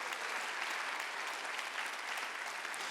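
A church congregation at a Korean Sunday worship service claps together, a steady, even wash of many hands sustained throughout.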